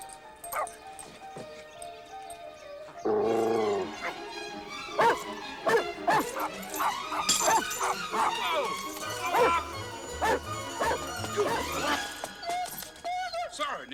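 A small dog barks and yips in a burst of sharp, close, repeated barks that come in irregular bursts, mixed with a voice talking, clattering movement and background music in a film scene.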